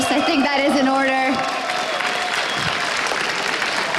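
A crowd breaks into applause at an LCS 2013 EU esports match, steady clapping and some cheering, while a voice talks over it in the first seconds.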